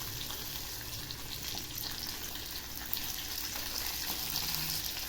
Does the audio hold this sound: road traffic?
no